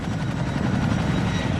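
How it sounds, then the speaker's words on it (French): An RAF Chinook helicopter in flight gives a loud, close, continuous rotor and engine roar with a rapid pulsing beat, and no speech over it. "nous embarquons à bord d'un Chinook de la RAF pour la dernière étape de ce voyage"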